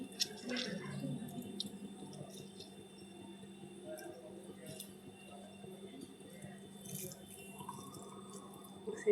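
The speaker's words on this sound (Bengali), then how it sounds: "সেদ্ধ শাকটা ঠান্ডা হয়ে গেছে, এবার জল চিপে চিপে নেব, পুরো জলটা বের করে দেব।" Cooled boiled greens squeezed by hand, giving close, wet squishing with water dripping and trickling off in small bursts over a steady low background hum.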